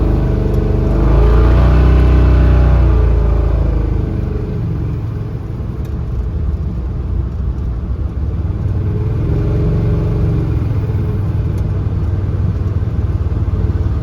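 A 454 V8 fitted with a roller cam and Harland Sharp rocker arms revs up loudly and then settles back to a steady rumbling idle-to-midrange drone, any rocker clatter buried in the engine noise.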